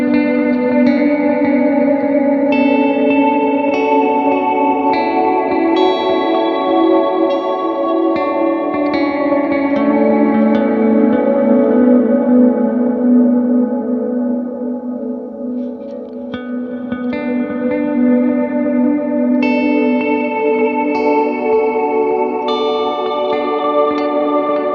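An ambient electric guitar with a reverb pre-delay effect plays sustained, shimmering chords and notes that bloom into a wash of echo and chorus, loud and continuous with a brief dip midway.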